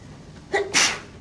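A single person sneezes during a mathematics workshop, a short sharp intake followed by an explosive burst, close and clear over a quiet room.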